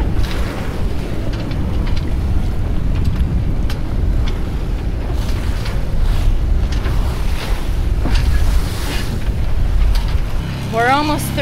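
A boat motors through a choppy sea with whitecaps, giving a steady, loud wash of engine, water and wind noise throughout, with a brief whistling tone near the end.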